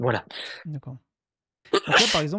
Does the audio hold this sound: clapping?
no